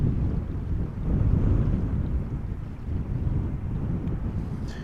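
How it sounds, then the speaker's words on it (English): A British Airways Embraer 190 arrives on a wet runway, its jet engines a steady low rumble with swelling intensity, mixed with wind buffeting the microphone. "the Embraer 190 from British Airways,"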